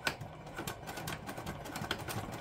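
A sewing machine backstitches in a fast, even run of stitching ticks at close range, quiet and steady with no talking.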